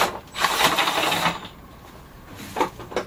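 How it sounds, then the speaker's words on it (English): A hand tool unscrewing the clamps on a filter during cleaning, giving bursts of close mechanical ratcheting and whirring with short pauses between them. "now we're going to use Matthew's handy dandy tool here to unscrew"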